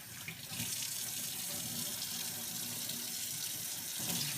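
A brined whole chicken is rinsed under a running kitchen tap, a steady rushing stream of water splashing into the sink from start to finish, close and even.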